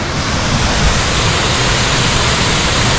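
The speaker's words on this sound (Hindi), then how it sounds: "so finally we have reached this जनाइलर waterfall" A waterfall in Cherrapunji, Meghalaya roars as a loud, dense, unbroken rush of falling water, very close and steady throughout.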